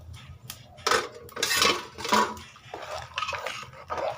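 Cabbage and potato being stirred into a pot of khichuri, a spoon scraping and clinking against the metal pot in several uneven bursts, close and fairly quiet.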